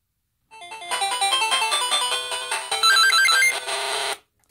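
A repaired Sega Game Gear handheld console plays a loud, bright electronic melody through its small built-in speaker, a steady run of stepping square-wave notes lasting about four seconds before cutting off.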